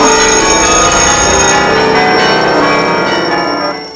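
A loud metallic bell rings continuously with bright, sustained overtones, fading slightly toward the end, with no voices over it.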